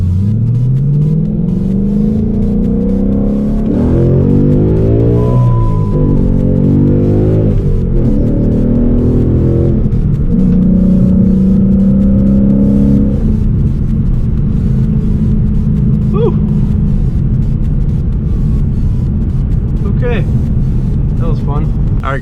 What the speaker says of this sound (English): Let's just do a first gear pull after this car leaves.